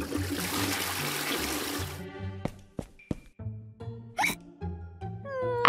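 Toilet flushing in a bathroom, a loud rushing whoosh for about two seconds that cuts off, followed by sparse drips, clicks and trickles, close by with no talking.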